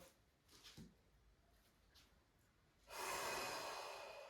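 Soft nasal breaths during a breathing and abdominal strength workout, followed by one long, forceful, airy exhale that is loud and close and fades slowly toward the end.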